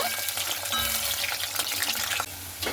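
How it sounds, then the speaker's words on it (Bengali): Potatoes fry in hot oil in a wok, giving a steady, close, dense sizzle that runs unbroken for the whole moment with faint stirring scrapes and no talking. "এরপরে আলুটাকে খুব সুন্দর করে লাল লাল করে ভেজে নেব।"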